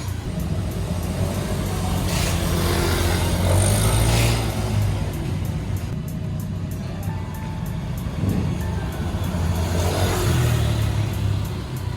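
A Honda Scoopy scooter fitted with a ported head and an upgraded BRT T1 camshaft revs on a test drive, its engine droning and rising in surges, fairly loud and close, with no talking.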